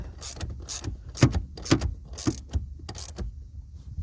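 A ratchet cranks to tighten a SafeDrive Pro clamp onto the brake pedal on the passenger side of a car: a close series of sharp, uneven mechanical clicks and bursts in quick succession, with no talking.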